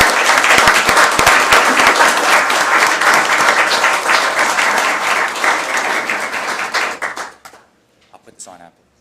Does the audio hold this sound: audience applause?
yes